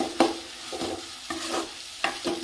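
Chillies for thokku stirred and sautéed in a pan, with four distinct scraping strokes of a spatula at uneven intervals over a soft sizzle, close and clear with no voices.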